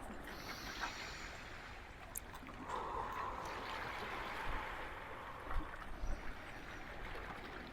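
Ocean waves washing gently onshore in a sunny outdoor setting, a soft continuous wash and trickle of water, faint and steady with slight swells.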